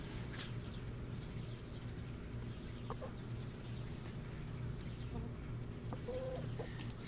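Backyard chickens cluck softly at a distance during an outdoor yoga session in Tucson, over a steady low hum of background noise. A few brief bird calls stand out here and there.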